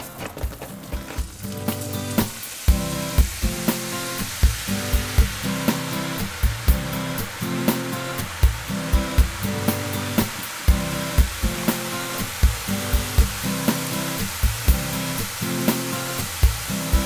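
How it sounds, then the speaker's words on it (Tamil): Besan sev dough sizzles and fries in hot oil, a dense continuous crackling hiss with regular rhythmic pulses roughly every second, close and loud with no talking. "இதெல்லாம் நான் எடுத்துட்டு நேரடியாக எண்ணெயில் பிழிஞ்சு காமிப்பேன்"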